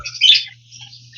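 Parakeets at a wildlife safari walk-through aviary chirp in bright, close, overlapping bursts over a steady low hum.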